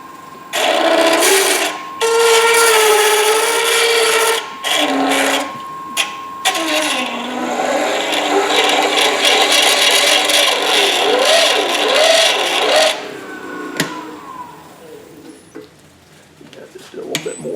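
A texturing tool scrapes against a spinning top of wood turned on a fast-running lathe, giving a loud, continuous rasping chatter with shifting pitch that cuts off in bursts and then stops near the end, close up without speech.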